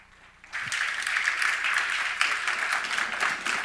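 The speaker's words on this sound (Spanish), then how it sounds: "Un fuerte aplauso." A conference audience breaks into steady, full applause that starts abruptly and continues evenly, heard from within a hall at a Madrid tech talk.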